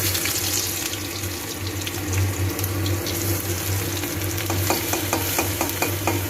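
Crushed garlic sizzles in hot oil in a pan while cooking a spicy ray fish curry, a steady close frying hiss with a low hum beneath and a run of small clicks from a utensil near the end.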